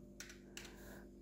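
Typing on a computer keyboard, two short quiet bursts of clicking keystrokes in a calm indoor setting, no talk.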